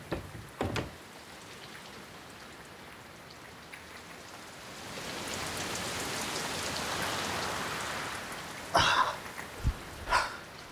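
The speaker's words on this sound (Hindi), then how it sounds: "इतनी तेज बारिश हो रही है बाहर" Heavy rain falls steadily outdoors, a broad hiss that swells louder midway, with a few sharp throat-clearing or cough-like sounds near the end.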